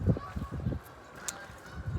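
Geese honk repeatedly in a snowy outdoor setting in Hampton, New York, a flurry of nasal calls at moderate distance, fading briefly and then picking up again.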